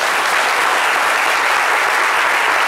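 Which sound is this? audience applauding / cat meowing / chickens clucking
audience applauding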